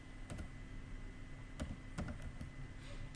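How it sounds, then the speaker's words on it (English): Faint keystrokes on a computer keyboard, a handful of scattered clicks in a quiet room. "So for this I'm going to type sheets"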